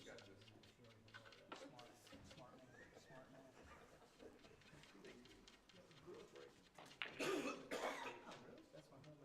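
A commentator at an artistic pool championship coughs repeatedly after a cough drop goes down the wrong way, rough irregular bursts close to the microphone, with murmured voices in the background.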